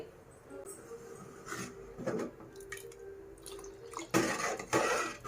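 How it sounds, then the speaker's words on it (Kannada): Water poured into a pot of mixed vegetable sambar with lentils, soft drips and splashes early on, then a louder gush of pouring near the end, close but quiet. "ನಾನೊಂದು ಸ್ವಲ್ಪ ನೀರು ಹಾಕ್ಕೋತಾ ಇದ್ದೀನಿ"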